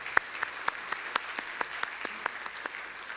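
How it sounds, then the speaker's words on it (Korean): A congregation at a Sunday morning church service applauds in welcome with a sparse, uneven patter of individual claps, each hand strike distinct against a quiet room. "자, 우리 박수로 환영하겠습니다."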